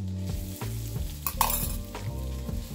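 Finely chopped onions cook in two tablespoons of butter for a spinach dip, a low sizzle under steady stirring and scraping, with a few sharper utensil knocks against the pan; close and moderately loud, with no voices.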